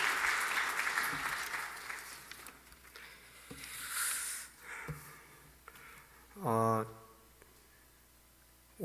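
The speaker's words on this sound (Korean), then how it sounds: "한번 박수 한번 보냅시다" A church congregation at an evening service breaks into a brief burst of applause, a short flurry of clapping that rises and fades after spoken remarks from the pulpit.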